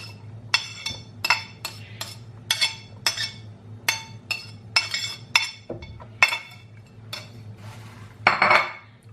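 Chopped onions are added to a pot: repeated metallic clinks of a spoon against the pot, about a dozen sharp taps in an irregular rhythm over a steady low hum, ending in a louder scraping clatter.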